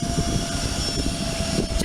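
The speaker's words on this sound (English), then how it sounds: "There goes that LearJet. Oh man, we should sit here and listen to it. It's really powerful." A Learjet's jet engines roar at Aurora Municipal Airport. The sound is a steady, powerful rumble with broadband hiss, heard at a distance for a brief moment without any speech.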